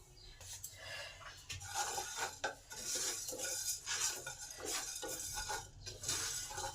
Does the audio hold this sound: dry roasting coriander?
yes